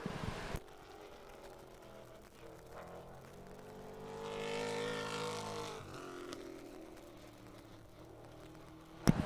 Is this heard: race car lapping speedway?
yes